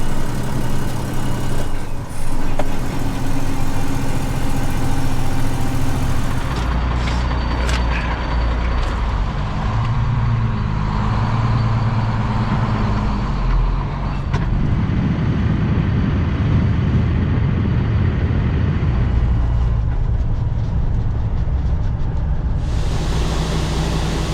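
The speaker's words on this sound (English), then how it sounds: "driving semi, downshifting, uphill." A semi truck downshifting while climbing uphill, its engine droning loud and close with low rumbling tones that step and shift in pitch over the span, steady road and cab noise underneath, no speech.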